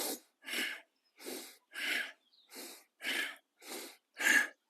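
Bellows breathing: eight sharp, forceful exhalations through the nose come in a steady rhythm, each a short breathy burst separated by brief silences, close and fairly quiet.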